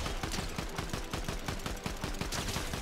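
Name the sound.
gunfire from shooting an enemy in the video game Fortnite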